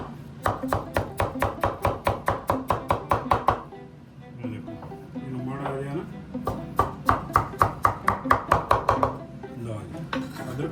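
Ginger is chopped finely on a board in rapid, even knife strikes, a fast burst that pauses while someone talks and then resumes in another quick run.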